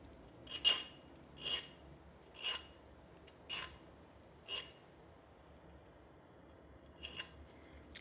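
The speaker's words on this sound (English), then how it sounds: "So I'm using a file" A hand file bevels a part of a 30-06 Mauser sporter rifle in about seven short, faint rasping strokes, the first five evenly spaced and the last two close together, against near silence.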